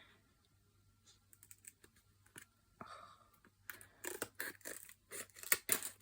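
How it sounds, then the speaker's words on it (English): Scissors snip through several strips of crystal drill at once, giving sparse crisp clicks and plastic crackles up close that grow busier and louder toward the end, with no talking. "I wonder if these scissors will cut a few at the same time"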